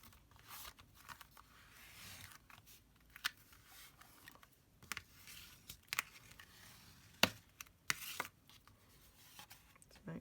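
Paper being folded and creased for a junk journal cover: soft, irregular crinkles and sharp little snaps and taps spread across the stretch, close and quiet against a hushed room.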